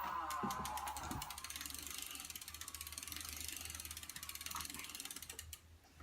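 Steady ratcheting clicks come from a Sawyer Bee warping square turned through three revolutions, a fast, even mechanical clatter that runs close and moderately loud throughout with no speech.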